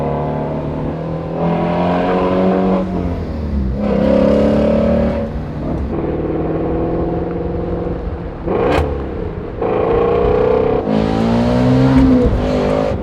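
Engine of a Ford Mustang GT350R revving hard through the gears on a road, loud and close, with rising and falling pitch sweeps and a few sharp downshift blips between pulls; no talking.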